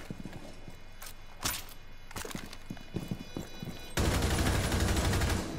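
Gunfire through a wall in a Rainbow Six Siege match: scattered sharp shots and clatter in a busy game mix, ending in a dense, loud burst of continuous shooting.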